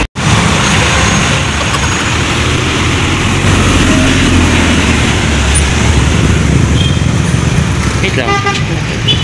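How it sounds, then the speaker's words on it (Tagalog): Dense Metro Manila road traffic, a loud, steady roar of cars, buses and trucks close by, with car horns tooting repeatedly throughout. "So, ito guys, sobrang traffic."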